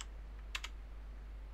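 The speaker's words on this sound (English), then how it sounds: "We'll type in root" Typing on a computer keyboard: a few soft, faint key clicks, two close together and one more a second later, over quiet background hum.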